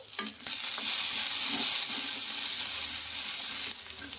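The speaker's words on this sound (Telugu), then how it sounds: "ఇంకా మనకి మిర్చి కూడా బాగా ఫ్రై అయిపోయింది" Green chillies, ginger and garlic fry in a pan with a bright, steady sizzle. A brief quieter stretch comes at the start and another at the end, and soft stirring sounds run underneath.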